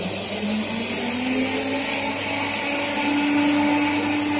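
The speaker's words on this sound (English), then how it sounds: "As we increase that, the turbine will start to move." Pelton wheel water turbine spinning at high speed under strong water flow in a lab rig: a loud, continuous whirring drone with a rising tonal whine and hissing spray, steady throughout without speech.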